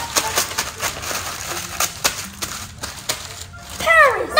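A newspaper tears in rough, noisy bursts while people talk over it, ending with a bright chirping squeak.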